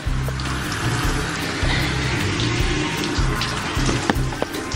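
Water runs and splashes steadily from a tap while freshly dyed hair is rinsed, close and continuous with irregular splattering.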